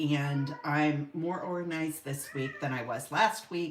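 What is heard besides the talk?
cat meowing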